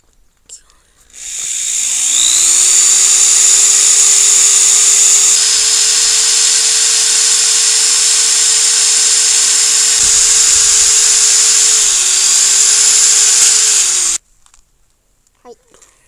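An electric drill bores a 1 cm hole for a homemade pocket flute, spinning up with a rising whine, running steadily at high pitch for about twelve seconds, then stopping abruptly.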